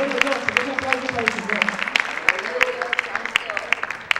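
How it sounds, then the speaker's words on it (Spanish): Congregation clapping in a church, a rhythmic patter of many hands with a voice talking over it throughout. "Gloria a Dios, un aplauso para el"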